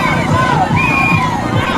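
A large, dense crowd fills a street party, a loud close babble of many voices over a thumping rhythmic beat and scattered shouts.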